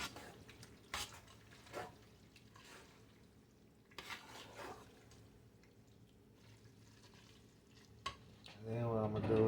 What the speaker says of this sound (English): I'm gonna turn it down to about a medium low. And I'm gonna stir this up.